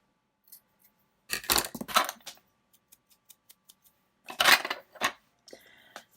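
Scissors snip through paper while an altered journal embellishment ticket is trimmed, heard as two close bursts of rustling cuts separated by quiet gaps and scattered light ticks, with no voices.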